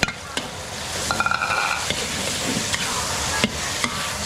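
Minced pork and crispy pork fry in a pan over a low flame, giving a steady sizzle broken by quick clattering stirs and scrapes of a utensil, close up with no talking.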